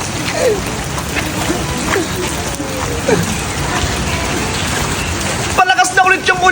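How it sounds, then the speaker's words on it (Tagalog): Heavy rain pours down outdoors in a steady, dense roar that lasts throughout, with a brief burst of clicking near the end. "Palakas na ulit yung ulan!"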